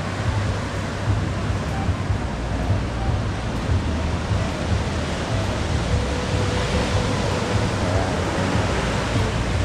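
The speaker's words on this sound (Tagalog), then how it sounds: "ayan na naman ang dagat ngayon dito" Sea waves rolling onto the shore at a beach, a steady, loud broadband roar of surf and wind with no clear breaks, heard close by and alone.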